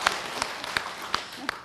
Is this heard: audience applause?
yes